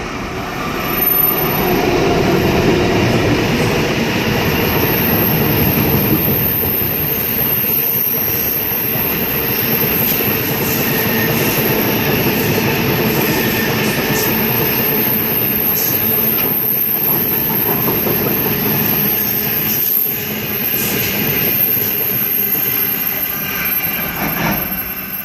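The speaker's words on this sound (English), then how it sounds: "Freight pass on platform number 1, it's a cement train." A cement freight train, led by locomotive 8170, rumbles steadily past a station platform at Casula, a loud continuous roar of wagons and engine throughout with no talk.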